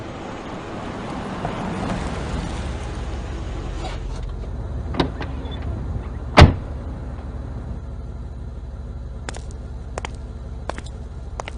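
A bus pulls up at a stop in a Caribbean radio drama: a steady low engine rumble throughout, a sharp thud partway through, and a few faint clicks near the end.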